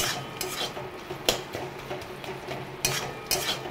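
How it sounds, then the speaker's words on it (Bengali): Chana potol with cashews being sautéed in a pan for a Bengali dish, a spatula scraping and rasping against the metal with irregular stirring strokes and a few louder knocks, close and steady, with no talking. "এবার কাজুটাও দিয়ে দিয়েছি, দিয়ে এটাকে এবারে ভালো করে চলো কষাবো।"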